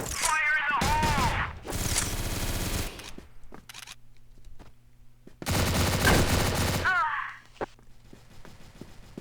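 A Gatling gun fires in the CrossFire video game in two loud sustained bursts of rapid rounds with a quieter gap between them. Game voice lines and player speech sound before and after each burst.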